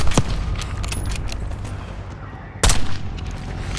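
Mortar and gunfire in the video game Call of Duty: Black Ops 6 boom out loudly, with a sharp blast at the start and another heavy impact later, over rumbling battle noise.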